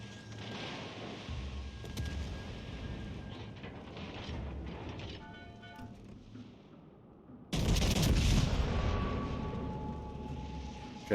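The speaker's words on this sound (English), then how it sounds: "Riga fires at the Suzuki" Naval gunfire from the ship Riga in World of Warships Legends, a heavy booming salvo that erupts loudly partway through and rumbles on over continuous battle noise and game effects.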